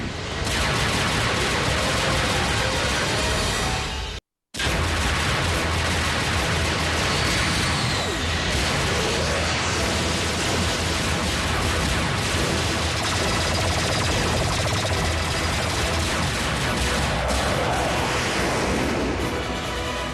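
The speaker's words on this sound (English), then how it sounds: "Blast that Autobot into oblivion!" Rapid blaster fire from the Transformers Prime Beast Hunters video game rattles on continuously as a dense, loud barrage, with a split-second dropout early on and no speech.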